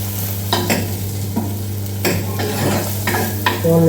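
An egg omelette cooks in a hot oiled pan, giving a continuous sizzle broken by several scraping stirs of a spatula.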